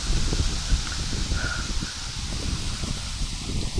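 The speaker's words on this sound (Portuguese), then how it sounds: "tem um vento um pouco mais forte aqui" Fairly strong wind blows steadily across a microphone outdoors at night at an old school, producing a constant broadband rush with gusty buffeting and no voices.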